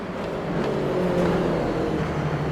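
A race car laps the banked corners of Zandvoort in a racing video game, its engine holding a steady, close, continuous whining drone with a slight rise in pitch.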